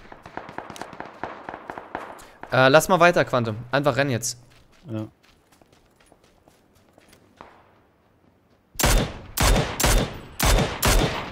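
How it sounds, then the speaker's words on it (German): Rapid bursts of gunfire from a shooter video game crackle under two players' German chatter, with a dense run of shots early on and a louder cluster of heavy, close reports near the end. "Ja, hier oben links wird gut geballert."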